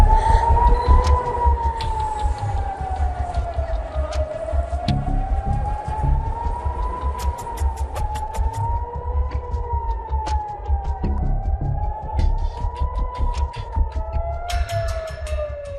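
An air raid siren wails over Tel Aviv in slow rising and falling sweeps that repeat for many seconds, loud and sustained, with scattered sharp clicks and a low street rumble underneath.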